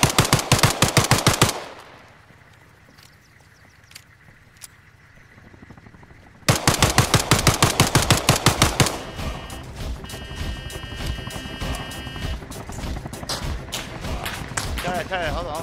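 Rapid automatic gunfire in an Arma video game rattles out in loud, dense bursts, stops for several seconds of near quiet, then resumes with long sustained volleys mixed with scattered shots.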